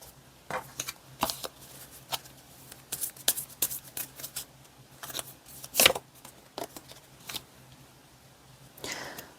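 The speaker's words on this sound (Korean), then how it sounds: "여러분에게 다가올 그 사람의 어떤 사람인지 특징에 대한 카드 뽑아볼게요" Tarot cards shuffle and snap down in a quiet room, a series of short crisp riffles and slaps arriving irregularly, close and fairly faint, with no talking.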